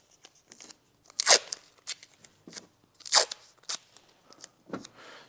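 Strips of tape are ripped off a roll in short, sharp tearing bursts, two of them loud and close, between softer crinkles and handling sounds, with no talking.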